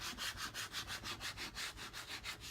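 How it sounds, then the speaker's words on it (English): Scraper squeegee smoothing adhesive vinyl onto a galvanized farmhouse sign, a close, steady rubbing sound repeating in about a dozen even strokes with no talking. "I'm smoothing this down. This is just my little scraper, squeegee,"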